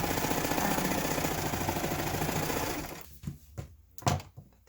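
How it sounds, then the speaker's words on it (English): A sewing machine runs top stitching around the edge of a small quilted mug rug, a fast steady mechanical chatter for about three seconds, then a few short bursts of stitching as it stops and starts. "I'll top stitch all the way around, just so it closes off and it just kind of finishes it"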